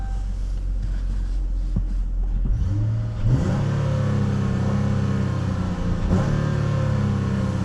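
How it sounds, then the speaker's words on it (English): A 2018 Chrysler 300 V6 idles low and then revs up, holding its raised revs and dropping back only slowly toward idle; the engine is steady and close, with some wind noise and no voices. "The engine kind of holds onto the revs just a little bit longer than it's supposed to."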